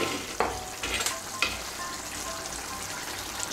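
Soybean curry sizzling in a pan over raised heat as garam masala powder goes in, a steady frying hiss with a few sharp stirring clatters near the start, no talk.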